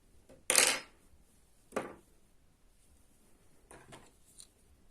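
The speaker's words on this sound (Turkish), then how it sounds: "İpimi burada kesiyorum." Scissors snip through yarn while finishing a crocheted oya lace edging: a crisp, close cut, a second softer snip about a second later, then faint light clicks in a quiet room.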